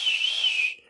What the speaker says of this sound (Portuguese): A palavra whistle traz a ideia de assobiar ou assobio